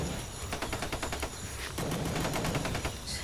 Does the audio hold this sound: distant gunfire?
yes